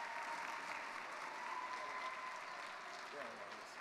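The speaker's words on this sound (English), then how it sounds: "Another round of applause, please." Applause from a convocation audience for a community panel, a steady spread of clapping heard at low level throughout, with faint voices mixed in.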